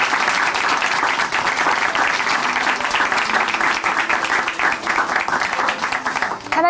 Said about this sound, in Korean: 앞으로도 계속 복음을 전해주실 우리 김미인 자매님께 응원의 박수 다시 한번 부탁드릴게요